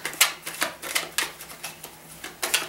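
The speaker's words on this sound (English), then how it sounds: "This is the last shuffle" Tarot cards are shuffled by hand in a brisk run of papery riffles and taps, close to the microphone, with no speech.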